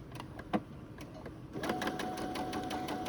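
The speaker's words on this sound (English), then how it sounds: "I've got it set to a straight stitch, so I'm just going to start stitching, do a reverse." Home sewing machine set to a straight stitch running a closed garment seam, with a soft continuous whir that steps up and steadies about halfway through, plus a few light mechanical clicks near the start.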